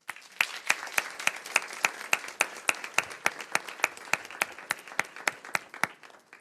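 Small audience at a school governing board meeting clapping, sparse distinct hand claps in a fairly even rhythm, a few people applauding for several seconds in a quiet room.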